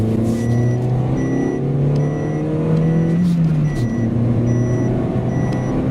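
A Great Wall M4 running on LPG drives and accelerates, its engine drone rising steadily in pitch with loud, constant road and cabin noise and faint high beeping tones, no voices.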